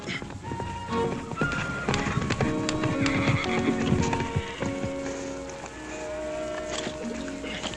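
A horse whinnies amid clip-clopping hooves, with bursts of neighing over steady footfalls nearby.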